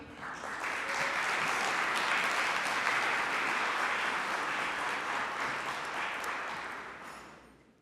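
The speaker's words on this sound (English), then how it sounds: "can you raise your hand so we can all applaud you?" A small business forum audience breaks into sustained applause, dense and even, swelling quickly, holding steady for several seconds, then tapering off at the end with no talk over it.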